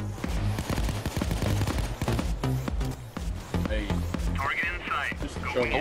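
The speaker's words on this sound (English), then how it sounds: "They're sniping." Sniper gunfire in the video game PayDay 2 comes as a dense run of sharp shots and bursts, loud and close, while players talk over it.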